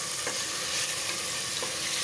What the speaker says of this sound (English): Stir that up very well.